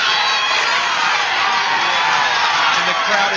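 A fight crowd roars and cheers continuously, loud and dense, with shouts and whoops rising from the stands as a commentator talks over it.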